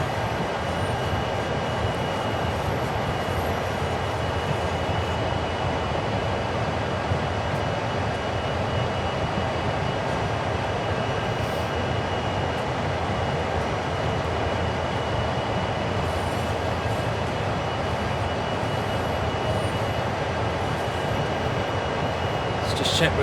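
Locomotives rumbling along during yard switching in Train Sim World, a steady, dense engine drone and rail noise held evenly throughout, with a faint squeal near the very end.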